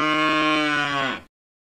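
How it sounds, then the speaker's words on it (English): A cow lets out a single sustained moo, loud, close and steady for about a second before cutting off cleanly. "Cow."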